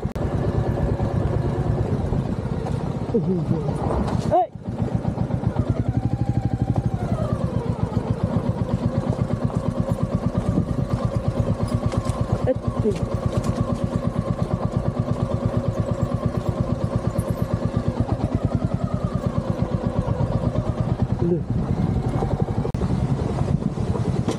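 A motorcycle engine runs close by on a rough, uphill off-road track at Chiwabhanjyang on the India–Nepal border, revs rising and falling over uneven ground, with one brief dip in sound early on.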